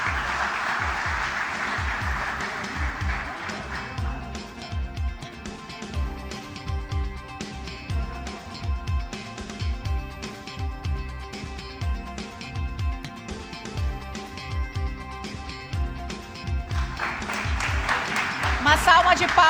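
Applause for honorees at a ceremony in the Juiz de Fora municipal chamber, a dense burst of clapping at the start and again at the end, with steady rhythmic low thumping and murmur running underneath.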